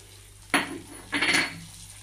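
Spice paste of green chilli and ginger being stirred in oil in a pan, two short scraping clinks of utensil against the pan, the second longer, with quiet pauses before and after.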